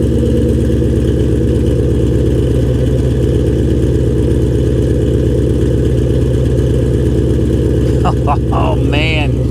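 A Shelby GT500 V8 rumbles at idle, a deep, steady, loud low-end burble close by, with a voice briefly over it near the end.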